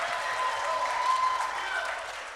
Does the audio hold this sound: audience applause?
yes